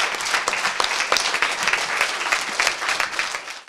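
Lively clapping from a crowd of children and families at a charity market raising money for a dog shelter, dense and close, tapering off at the end.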